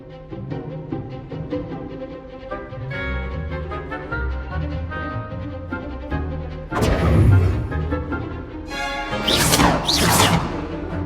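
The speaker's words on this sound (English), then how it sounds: "This time, cast Levioso first, then the basic cast." Hogwarts Legacy spellcasting of Levioso and a basic cast plays over a steady musical score, with a heavy whooshing impact midway and two bright swishing bursts near the end, loud and close.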